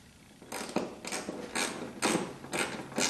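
A ratchet fitted with an extension works on body mount bolts of a 1976 Corvette, giving repeated rasping bursts of clicking in several short strokes, close and fairly loud, with no talk.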